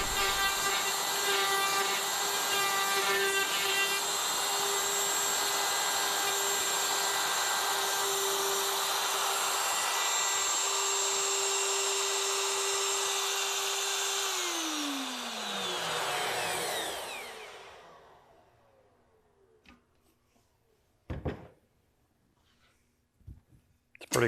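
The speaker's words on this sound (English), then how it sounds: "I have to change router bits too, and then we'll make our pins and sockets." A router cutting dovetail pins and sockets in wood, a loud steady high whine that lasts about fifteen seconds, then winds down to silence, followed by a couple of sharp knocks.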